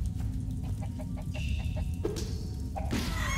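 Chicken clucks from the video game Tom the Postgirl: a run of short, evenly spaced clucks followed by a couple of louder squawks, all over a steady dense game background hum.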